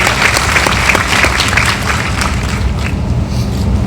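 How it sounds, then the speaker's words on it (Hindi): Audience applause at a university convocation ceremony in Bareilly, a loud, dense burst of many hands clapping that holds steady and then thins slightly toward the end, with a rumbling low background. "छात्रा शब्द आगे तालियां बजनी चाहिए भाई।"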